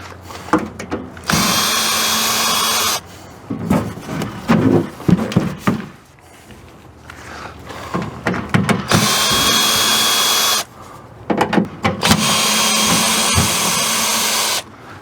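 A power drill backs screws out of a Girard water heater panel in repeated loud bursts of whirring, separated by quieter gaps with handling clunks and faint ratcheting.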